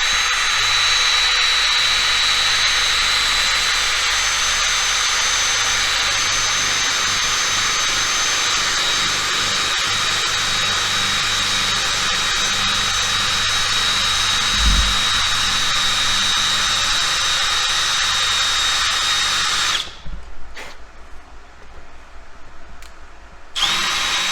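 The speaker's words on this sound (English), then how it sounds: "you're just going to drill a groove into it where that nail can catch" A power drill whines steadily as it cuts a groove into wood, loud and close, running for about twenty seconds before cutting off into near quiet.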